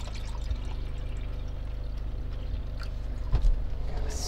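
Six cups of water are poured into a cooking pot at a campsite, a soft continuous splashing flow lasting several seconds, with a brief knock near the end.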